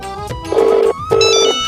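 A phone rings twice, each a bright electronic burst of about a third of a second separated by a short gap, loud and close with nobody talking over it.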